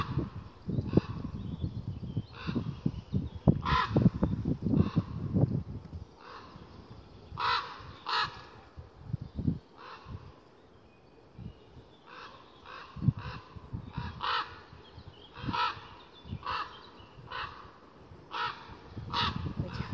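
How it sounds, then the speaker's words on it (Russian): Two crows caw loudly and repeatedly in bursts, some calls overlapping, with other outdoor noise between them and no talking. "две вороны начинают очень громко кричать."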